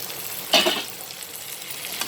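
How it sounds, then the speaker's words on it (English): Fried pointed gourds drop into a spicy masala in a pan, a brief burst of sizzle and clatter rising over a low background hiss before settling back to quiet frying. "We'll add the fried pointed gourds to it."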